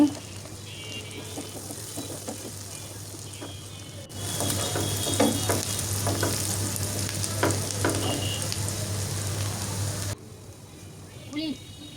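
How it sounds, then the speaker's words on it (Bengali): Green chilies fry in a hot pan for beef brain bhuna, a steady loud sizzle with scattered stirring scrapes and clicks, growing louder through the middle stretch before easing back. "এখানে আমি কিছু কাঁচামরিচও দিয়ে দিয়েছি এখন এগুলো আমি ভালোভাবে ভেজে নিচ্ছি"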